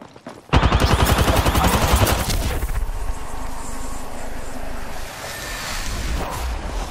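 Rapid automatic gunfire from the video game Apex Legends bursts in loudly after a brief pause, a fast rattling volley that gives way to a busier mix of continuing shots and game noise.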